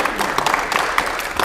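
A game show studio audience applauds a correct answer about antiques, a dense spatter of claps that holds at a steady, moderate level through the short stretch.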